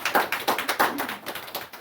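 A church congregation claps in a steady, rhythmic beat, hands striking together about every quarter second, close and moderately loud with no talking.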